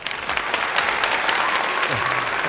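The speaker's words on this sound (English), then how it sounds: "As always, more applause." Applause from a small audience closing out a talk show episode, a steady dense patter of clapping held evenly throughout, with a faint voice underneath.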